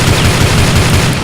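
A loud, rapid burst of continuous AUG rifle fire from the shooter game CrossFire, with dense, tightly spaced automatic shots close up and no pause.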